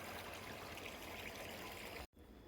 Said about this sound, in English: walking up from the brook, which is down there, you can hear it babbling